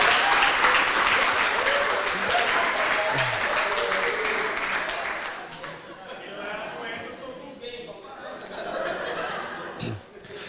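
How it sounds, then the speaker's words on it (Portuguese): A church congregation applauds and laughs at a sermon, with dense clapping for the first half that thins into scattered claps and chuckles with some talk mixed in. "Pode aplaudir o Senhor aí"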